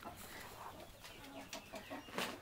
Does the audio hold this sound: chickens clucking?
yes